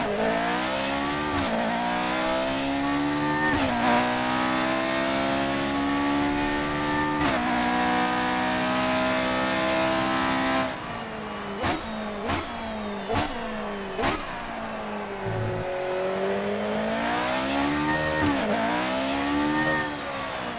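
A Formula 1 car engine in the video game F1 2018 at Silverstone screams loudly, revving up through gears with sharp shifts, then easing off and accelerating hard again, continuous and close.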